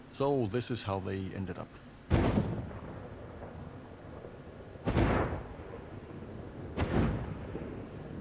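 Thunder-like cannon shots from the video game Braid, three heavy booming blasts spaced a couple of seconds apart, each with a rumbling decay, following a brief stretch of someone speaking.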